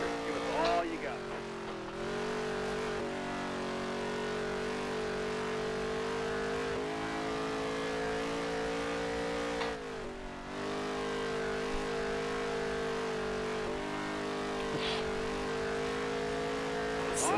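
A NASCAR stock car engine in NASCAR Heat 3 holds a steady, loud, high-revving drone with brief dips as the pitch shifts, and a voice talks over it at times.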